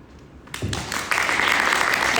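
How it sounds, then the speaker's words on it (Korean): Audience applause at a university student self-government forum breaks out abruptly after a short pause, starting thin and then swelling into fuller, steady clapping from a seated crowd. "네, 박수."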